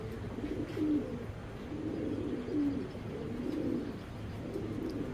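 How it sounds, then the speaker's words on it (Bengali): Racer pigeons coo close by in soft, repeated low rolling calls that rise and fall every second or so over a quiet background. "তো আসলে আজকে এরকম কিছু কবুতর আনছি"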